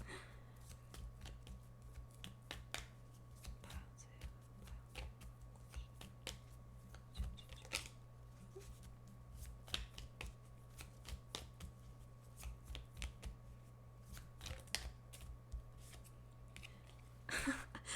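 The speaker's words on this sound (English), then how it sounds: "shuffling." A deck of cards shuffled by hand over a quiet background hum, the soft riffling and slapping recurring in irregular close bursts with no speech.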